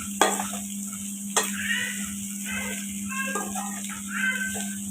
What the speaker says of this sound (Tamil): இந்த சாப்பாடை இதில் போட்டு நல்லா வறுக்கணுங்க.